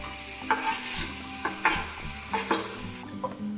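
Tomatoes stirred into fried onions in a pan, a low sizzle under several distinct scraping strokes of a utensil against the pan, close-up and rhythmic, with no talking.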